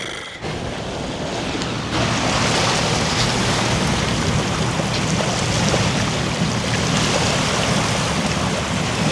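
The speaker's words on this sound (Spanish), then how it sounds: "disfruten con nosotros el sonido del mar" Ocean waves roll onto the beach at San Carlos, Sonora, a broad continuous wash of surf with wind buffeting the microphone, swelling louder after a quieter opening and holding steady, with no voices.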